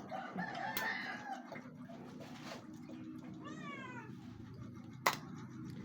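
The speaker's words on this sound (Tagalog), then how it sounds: "yung mga pusa, nakakaamoy na po sila ng langsa. Kaya iyan. Umiiyak po." Cats meowing and crying in a home kitchen as they smell fish being prepared, with repeated drawn-out meows, a rooster crowing nearby and a sharp knock near the end.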